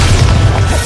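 A Bombarda explosion spell going off in the video game Hogwarts Legacy, a short, heavy booming blast with deep low-end rumble, loud and close for under a second.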